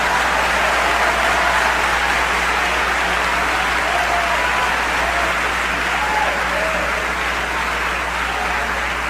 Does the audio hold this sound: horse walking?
no